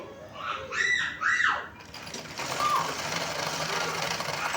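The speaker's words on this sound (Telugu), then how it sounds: "ఇటు సైడ్ని స్టిచ్ చేసేయాలండి." A sewing machine stitches the lining of a hip belt, its motor running as a steady, fairly loud whir through the second half after a brief burst of squeaky sounds at the start.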